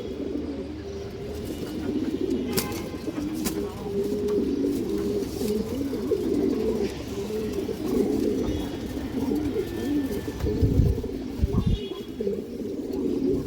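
A crowded loft of flying pigeons keeps up continuous overlapping cooing for the whole stretch, several birds rumbling at once close by, with a few faint clicks and scuffs mixed in.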